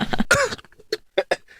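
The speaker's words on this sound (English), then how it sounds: "I'm laughing so hard, I'm coughing." Several sharp coughs from a person who has been laughing hard: a longer burst first, then a few separate, close coughs spaced out over about a second and a half.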